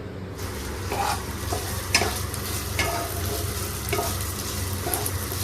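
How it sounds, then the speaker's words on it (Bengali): Rice frying in oil with whole garam masala for pulao gives a steady close sizzle, broken by repeated scraping stirs of a spoon through the pan. "এই ভাতটা তেলে দিয়ে ভাজা হবে ভাতটা তেলে দিয়ে মোটামুটি ছ সাত মিনিট ভাজবো"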